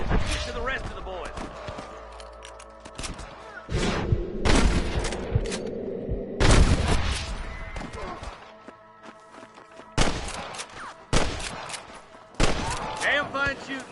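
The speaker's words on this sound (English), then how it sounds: "Damn fine shooting, boys." Rapid bursts of gunfire during a shootout in the Red Dead Redemption video game, loud close volleys in several clusters with gaps between, accompanied by shouting voices and game sound effects.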